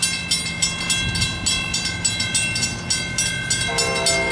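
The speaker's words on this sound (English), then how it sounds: "what a sweet sound when you hear a Trump train coming through Wallingford" A train passes on the tracks through Wallingford, a steady rumbling roll with rhythmic clicking of wheels over rail joints, close by and loud, with a horn-like tone entering near the end.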